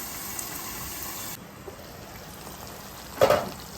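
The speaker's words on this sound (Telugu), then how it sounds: "మనము మూత పెట్టేసుకొని లో ఫ్లేమ్లో ఒక 5 నిమిషాలు ఉడకనిద్దాము" Pepper chicken cooks in a covered pan over a low flame, giving a steady close sizzle that softens partway through, followed near the end by a short louder clatter.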